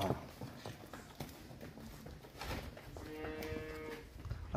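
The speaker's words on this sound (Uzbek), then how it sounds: "sigirimiz va bolasi buqacha" A cow with a bull calf lets out a drawn-out moo, with some shuffling and hoof-like thuds around it.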